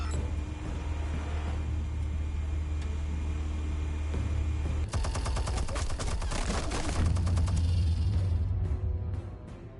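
Rapid automatic gunfire in a Telltale Batman game scene, starting abruptly over a constant low rumble partway through and continuing loud, close and dense to the end.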